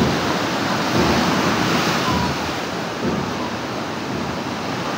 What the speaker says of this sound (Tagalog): ganyan po kalakas ang wave